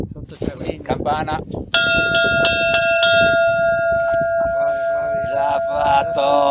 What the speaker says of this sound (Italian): Campana,